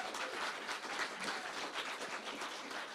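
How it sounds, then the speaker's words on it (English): Audience applause at a startup accelerator programme showcase, steady close clapping from many hands sustained throughout without talk. "So another round of applause for our whānau from the Rangai Collective."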